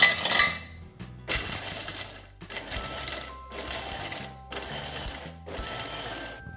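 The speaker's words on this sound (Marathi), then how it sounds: "बघा पल्स मोडवरच केलं आपली काजूची पूड छान तयार झाली" A mixer grinder on pulse mode grinds cashews into powder in five short, loud bursts separated by brief pauses, close and alone.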